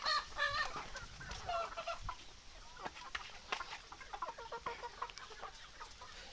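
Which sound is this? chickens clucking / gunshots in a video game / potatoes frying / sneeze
chickens clucking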